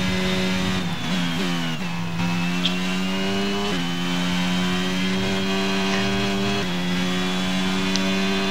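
An F1 car's engine in F1 2022 holds a steady high whine for over eight seconds, rising and dipping in pitch several times with no voice over it.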